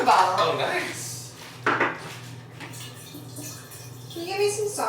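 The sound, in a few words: filling a water bottle at the tap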